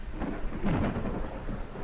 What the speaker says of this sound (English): Every now and then there's a bit of a thunder rumble